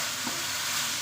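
Ground meat frying in oil in a pan, a steady close sizzle with faint stirring scrapes and no talk.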